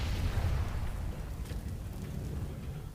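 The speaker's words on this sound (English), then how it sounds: "Nade down the hallway" A grenade blast in Counter-Strike during a professional DreamHack Masters Malmö 2017 match on Cobblestone, a heavy low rumbling boom that fades slowly into a dull roar.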